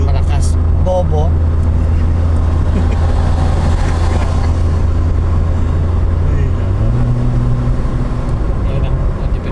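A vehicle engine running steadily with a low, laboring drone and air-conditioning load, heard from inside the cabin under ongoing conversation.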